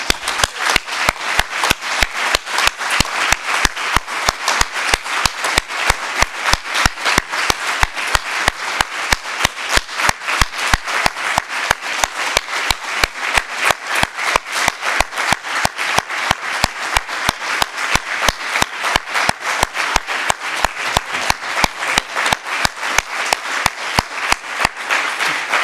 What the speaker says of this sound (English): So what about that we have a minute of applause to them?